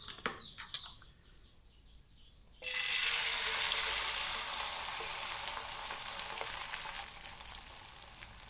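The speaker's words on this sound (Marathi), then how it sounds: "आता मी ऑमलेट टाकणार आहे।" Omelette batter poured into a pan of a little hot oil bursts into a loud, sudden sizzle after a few quiet clinks, and the frying hiss holds steady to the end.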